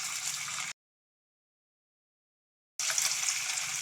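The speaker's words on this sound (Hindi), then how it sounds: "तेल अच्छी तरह से गरम हो चुका है। अब हम इसमें फ़िश डालेंगे।" Marinated fish fries in hot oil in a pan over a medium flame, a steady close hiss and sizzle that cuts out into silence, then returns just as strongly.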